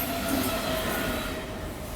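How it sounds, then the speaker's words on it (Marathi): A train rumbles steadily past with a dense roar of wheels and carriages and a faint squeal, continuous and fairly close, with no voices. "ट्रेन चालू झाले"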